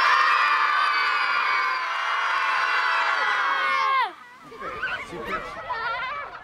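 A group of children screams together on cue during a rehearsal for an outdoor show, a loud, sustained chorus of high shrieks that stops abruptly, followed by scattered laughter and chatter.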